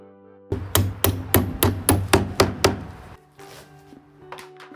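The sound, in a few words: hammer knocking wooden supports off a vanity drawer front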